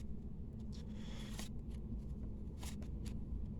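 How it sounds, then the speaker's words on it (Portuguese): Lenormand fortune-telling cards shuffled and spread into fans on a table, giving soft papery riffles and a few brighter swishes and slaps over a steady low hum, fairly quiet and close with no talking. "vou colocar 2 leques de cartas aqui do baralho cigano"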